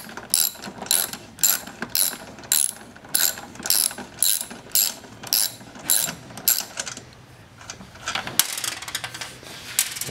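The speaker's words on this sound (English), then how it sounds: "We'll use a 13mm wrench. Let's back these off and remove that panel." A 13mm ratcheting wrench backs off nuts on an espresso machine's panel, its pawl clicking in quick rhythmic bursts, close and crisp, repeated about a dozen times before a looser rattle at the end.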